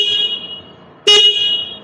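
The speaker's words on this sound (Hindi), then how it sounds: "इसका हॉर्न तेज है, लेकिन प्रॉब्लम पता है क्या, बैटरी डाउन है थोड़ी सी।" A motorcycle horn sounds once in a short, loud honk about midway, rising sharply above a steady engine idle hum that continues before and after it.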